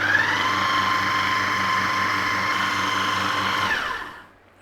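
A blender whirs steadily at high speed as it blends walnut pesto, loud and close, then winds down and stops near the end.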